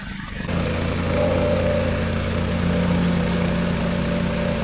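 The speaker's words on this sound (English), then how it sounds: "Now I start getting that gravel all compact." A gravel compactor machine working loose gravel on an RV property, a steady, loud engine drone with a low rhythmic thumping that starts after a brief quiet moment and runs continuously.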